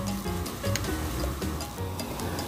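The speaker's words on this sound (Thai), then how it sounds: "เราก็ตั้งกระทะกันเลยนะคะแล้วทอดดอกสโหน่สิคะ" Sesbania flowers dipped in egg frying in a pan, giving a steady close sizzle and crackle of hot oil throughout, with no talking.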